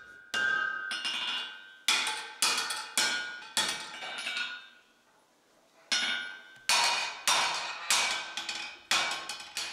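A forged axe head is straightened with metal hammers, giving sharp ringing blows in quick bursts of two to four strikes, a short quiet pause in the middle, then another run of steady, close hammering.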